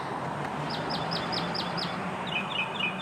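Birds identified as doves give a quick run of six short, evenly spaced call notes, then a higher, faster burst of chirps, moderately near over steady outdoor ambience, with no voices.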